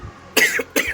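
Two sharp, harsh coughs close to the listener, spaced about half a second apart, with near silence before them.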